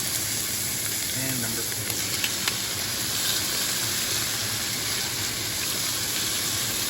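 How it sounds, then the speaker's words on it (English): New York strip steaks searing in a hot pan, a loud, continuous close-up sizzle that holds steady throughout, with a brief spoken phrase early on. "If you don't hear a sizzle like that, do not put the steak down."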